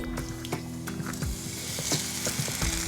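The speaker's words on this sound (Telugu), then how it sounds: "ఇప్పుడు దీన్ని ప్యాన్లో వేసుకోవాలి" Bread slice dipped in dahi batter sizzling and frying in a hot pan for dahi toast, a steady close crackle with small clicks and scrapes throughout.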